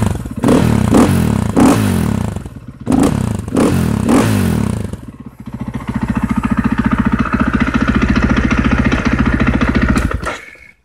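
A KTM 500 EXC dirt bike engine with a new exhaust runs up close with loud throaty pulses, sharp throttle blips at first, then settles into a steady rapid idle before cutting off.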